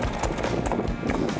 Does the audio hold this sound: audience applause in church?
no